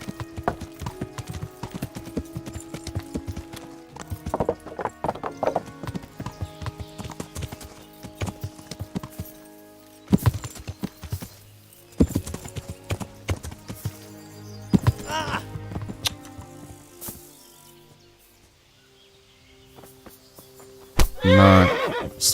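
A horse in the video game Kingdom Come: Deliverance gallops with loud, rhythmic hoofbeats and lets out a sharp neigh near the end, the hooves stopping and starting in bursts.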